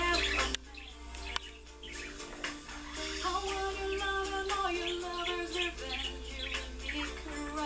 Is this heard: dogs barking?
no